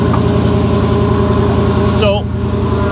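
A 1956 Chevy engine idles steadily nearby with an even, low rumble throughout, and a brief higher squeal or whine rises and fades near the end.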